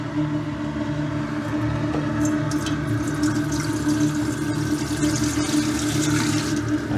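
Two liters of room-temperature water pour steadily into an incinerating toilet's bowl for several seconds with a constant splashing rush and no talking.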